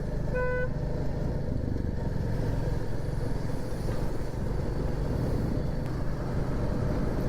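Steady road traffic on a city flyover near Lucknow, heard from a Royal Enfield Classic 350: a continuous, loud rumble of engines and tyres, with a brief horn near the start.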